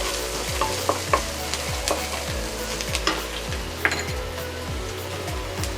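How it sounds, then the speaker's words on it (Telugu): Ginger garlic paste with green chillies sizzles steadily in a pan for coriander cashew pulao, with a spoon scraping and stirring in a regular rhythm, close and fairly loud, with no voices. "ఈ అల్లం వెల్లుల్లి పేస్ట్ పచ్చివాసన పోయే వరకు వేయించాలి"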